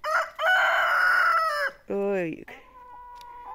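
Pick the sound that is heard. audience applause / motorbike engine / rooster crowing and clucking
rooster crowing and clucking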